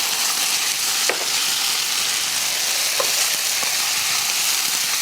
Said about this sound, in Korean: 아까 양념장 준비한 거 있잖아요. 넣어주시고 양파랑 섞은 다음에 밑에 참치를 넣어주세요.